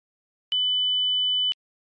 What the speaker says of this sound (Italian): Si sente un beep, vuol dire che l'audio sulle casse funziona.